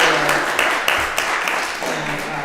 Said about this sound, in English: let's give Anna a clap